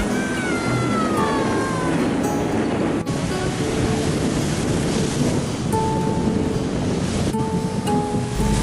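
Waves wash in at Telaga beach in Namlea, Maluku, a continuous broad surf roar with wind buffeting the microphone and faint tonal sounds from the busy holiday beach in the background.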